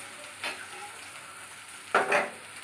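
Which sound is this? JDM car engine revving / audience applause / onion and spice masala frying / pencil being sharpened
onion and spice masala frying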